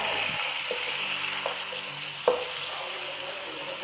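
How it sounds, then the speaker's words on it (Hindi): Beef tikka pulao frying in a pan as tomatoes go in, a steady close sizzle with a few soft clinks of stirring. "अब इसमें डाल दूँगी मैं टमाटर, टमाटर थोड़े सॉफ्ट हो जाएं"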